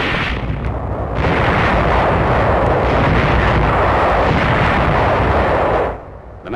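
WWII combat in 1945, troops under enemy fire from wooded hills along a highway: a dense, sustained roar of gunfire and artillery that swells after the first second and drops away near the end.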